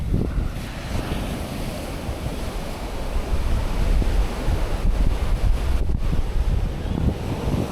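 Sea waves wash onto a beach in Brazil, a broad, continuous roar of surf mixed with wind buffeting the microphone, steady and fairly loud throughout with no voices.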